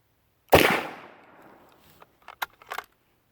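A single loud, close rifle shot from an M43 Mauser chambered in .308 cracks sharply and rings out in a decaying echo, followed by a few faint clicks and knocks of handling.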